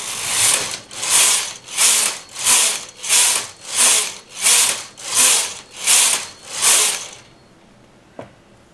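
A knitting machine carriage is swept back and forth across the needle bed in nine steady rhythmic passes, each a loud rasping whoosh, ending in quiet with a single small click.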